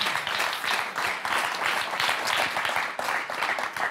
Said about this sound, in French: Et on va applaudir notre championne,